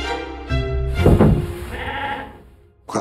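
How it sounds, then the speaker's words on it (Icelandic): A sheep bleats loudly and close by, one drawn-out wavering call lasting most of the moment, then a short thump at the very end. "Hvar eru kindurnar?"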